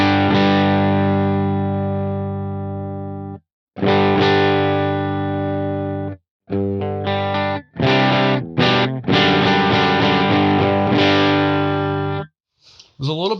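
An electric guitar played through an amp model on a Line 6 HX Stomp, dialed toward a clean tone with the treble pushed up. Sustained ringing chords and notes come in several loud phrases separated by short pauses, with a slight gritty edge.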